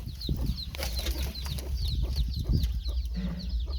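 Chickens cluck and chatter repeatedly in a busy farmyard among ducks, with high bird calls and rustling throughout, no talking.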